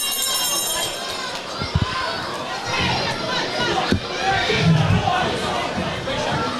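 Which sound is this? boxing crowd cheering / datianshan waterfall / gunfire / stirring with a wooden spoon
boxing crowd cheering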